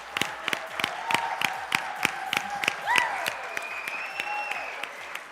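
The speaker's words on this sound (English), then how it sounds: "let's have one final cheer for the incredible athletes, mission staff, and coaches you've met here tonight" Audience at a Special Olympics 2025 event cheering and applauding the athletes, steady dense clapping with sharp rhythmic claps and whoops rising in the middle, sustained throughout.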